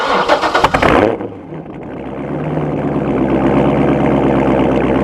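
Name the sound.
sports car engine starting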